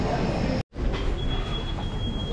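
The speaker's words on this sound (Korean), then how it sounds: "기차 들어온다" A train pulls into platform 2 of a railway station in Portugal with a steady, loud rolling rumble, briefly cut off, then returning with a thin, high wheel squeal running over the noise.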